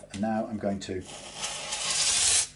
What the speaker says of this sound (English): by sanding, polish out the frets